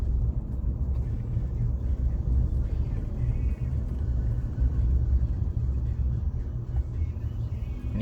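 Car driving along a Jakarta street, a steady low engine and road rumble heard from inside, continuous and moderately loud with no talk.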